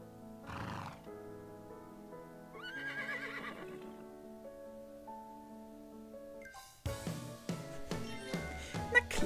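A horse in the Dr. Cares animal-rescue video game gives a shrill, wavering whinny over soft game music, followed by a louder, busier musical passage.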